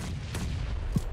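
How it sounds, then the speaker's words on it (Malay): Explosions and gunfire in a PUBG Mobile esports match, muffled booms and a sharp low thud under a dense constant game rumble, mid-distance. "Letupan-letupan mula untuk berlaku."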